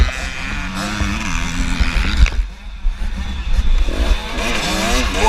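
Motocross bike in the Open B class at a WNYOA race, its engine droning loud and steady with revving swells amid other bikes and crowd noise nearby.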